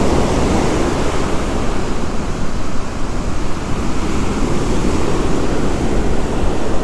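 Big ocean waves break and roar onto the shore at a fishing spot, a loud continuous broadband rush of surf with wind buffeting the microphone throughout.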